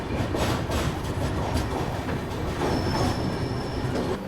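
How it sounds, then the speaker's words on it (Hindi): The Grand Trunk Express pulls into Balharshah railway station in India, a loud, continuous rumble of wheels on rails with rhythmic clatter and a thin metallic squeal, heard from aboard with no talking. "अब जाके ट्रेन पहुंच रही है बल्हारशाह रेलवे स्टेशन"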